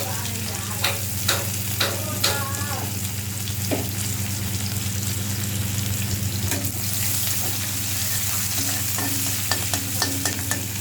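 Chopped garlic sizzles steadily in a hot pan for a Bengali prawn and taro-leaf dish, with a spatula scraping and tapping against the metal in irregular bursts, close and moderately loud over a constant low hum.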